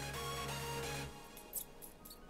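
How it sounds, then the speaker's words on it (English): A steady tonal hum fades out, then a chinchilla gives a few faint, quick, high-pitched happy chirps in a quiet room. "chinchillas sound like this. This is this is happy chirps."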